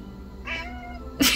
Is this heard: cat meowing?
yes